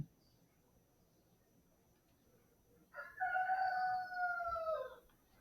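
A rooster crows once, a single clear cock-a-doodle-doo rising then trailing off, heard fairly close against a quiet indoor background after a few seconds of near silence.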